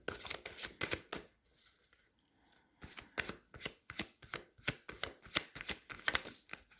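Tarot cards being shuffled and drawn during a reading, a fast run of crisp papery riffles and slaps, then a short pause and another burst of sharp card snaps close by, with no voice.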